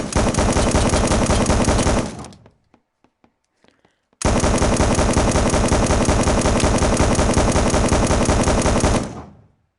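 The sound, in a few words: 50 caliber machine gun firing in VR game Gun Club VR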